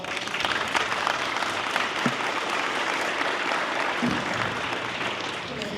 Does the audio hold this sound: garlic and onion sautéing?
no